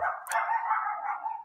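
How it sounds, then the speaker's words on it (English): Dogs bark and yip indoors at a distance, a muffled, continuous run of mid-pitched barking with a brief sharp onset, heard alone without talk. "my dogs are barking"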